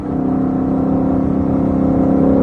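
A car's engine revs as it accelerates on a drive in a dream sports car, a loud steady rising drone with no talk over it.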